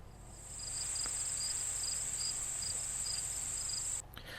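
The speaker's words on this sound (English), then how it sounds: "that's a marsh sound" Steady marsh ambience with a continuous high cricket trill and a pulsing chirp layered above it, fairly close and constant throughout.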